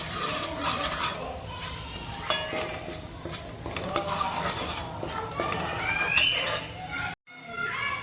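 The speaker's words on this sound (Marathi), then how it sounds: "धना पावडर, मटन मसाला, हे सर्व मसाले चांगले परतून घेते।" Ground spices including goda masala, coriander powder and mutton masala being stirred and sautéed in a pan for a black masala Bombay duck curry, with steady scraping and clinking of a utensil against metal and a soft sizzle throughout.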